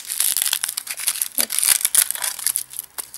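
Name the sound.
crumpling a small aluminium foil ball while unwrapping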